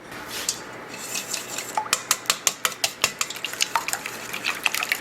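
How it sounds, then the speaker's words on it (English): Egg mixture seasoned with onion salt and black pepper is whisked in a bowl, a quick run of sharp, close metallic taps and clinks in a steady rhythm, with no talking. "we'll whisk our egg mixture together"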